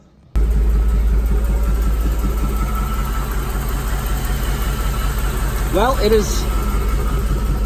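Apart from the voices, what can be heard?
rock crawler engine idling after sensor cleaning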